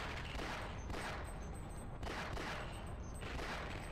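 Rapid gunfire in the shooter Half-Life, a continuous barrage of close, loud shots with bursts recurring about once a second under dense game noise.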